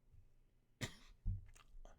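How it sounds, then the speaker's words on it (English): One sharp, close cough rings out, followed by a lower, throaty second cough; both are fairly quiet against a soft room background. "still dealing with a bit of a cough there"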